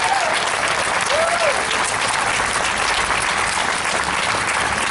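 Dense, sustained crowd applause at an outdoor rally against white supremacy, a loud, even roar of many hands clapping that holds steady for the whole stretch.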